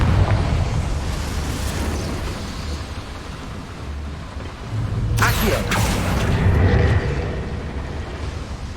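Confringo fire spell blasts in Hogwarts Legacy inside a small mine, with a burst of crackling impact noise midway over a steady low rumble of game ambience.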